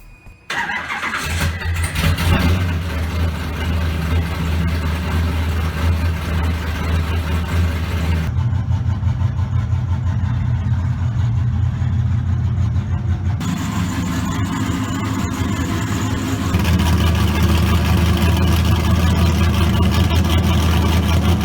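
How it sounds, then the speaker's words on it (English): A Mazda Miata engine with a newly installed exhaust cranks and fires for its first start, then settles into a loud, steady idle with a brief rev change midway, the exhaust note dominating throughout. "this will be the first start with the new exhaust completely installed"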